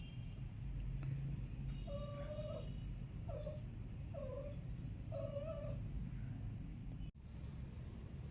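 Cats in heat yowl in a series of four drawn-out, wavering meows at a steady pace, moderately near against a low continuous background hum.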